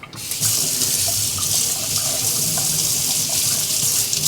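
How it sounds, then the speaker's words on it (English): A kitchen tap runs in a steady, loud, continuous stream as a spoon is rinsed under it while cooking Mapo Tofu, with no voices over the splashing. "rinse this spoon"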